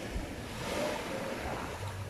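Surf rolls onto a beach at Dahican in Mati City, Davao Oriental, a steady broadband wash of breaking waves with some wind buffeting the microphone, no voices.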